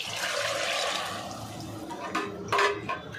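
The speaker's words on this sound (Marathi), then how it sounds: "हे ग मी आता पाणी घालते ह्याच्यात." Water is poured into spiced rice in a pan, a gushing splash that fades into gurgles and a few drips and metal clinks near the end.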